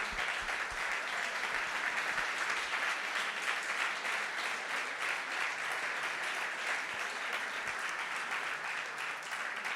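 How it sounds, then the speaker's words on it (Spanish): An audience at a talk event applauds continuously, a dense wash of many hands clapping at steady volume for about ten seconds without pause. "un fuerte aplauso para todos ellos,"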